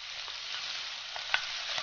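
Minced pork stir-fries in a little oil in a wok, giving a steady close sizzle with faint occasional taps of the spatula, no voices.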